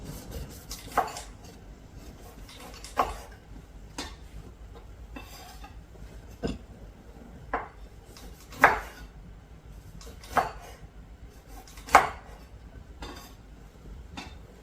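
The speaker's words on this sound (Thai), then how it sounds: "แล้วก็มะนาวนะคะ เราก็จะหั่นชิ้นไว้เลยค่ะ" Intermittent knife strokes slicing lime on a cutting board, a sharp cut or tap every second or two, quiet and unhurried, with no voices.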